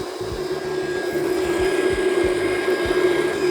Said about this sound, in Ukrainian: Вмикаємо протяжку.